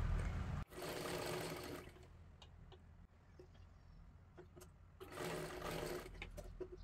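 A sewing machine stitches a blouse sleeve in two bursts of steady whirring, the second starting after a quiet pause filled with soft handling noises.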